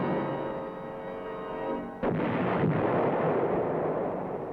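Artillery fire in Vietnam war footage, a rumbling roar of distant shelling followed by a sudden heavy blast and a sustained broad rolling boom, loud and continuous.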